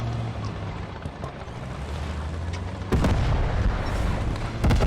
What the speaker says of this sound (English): we see TNT about to go down right on the back of this tank